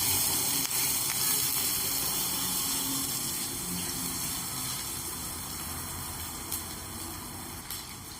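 Green chillies and ginger-garlic paste sauté in a hot pan, giving a steady, fairly loud sizzling hiss that fades slightly over several seconds, with no voices.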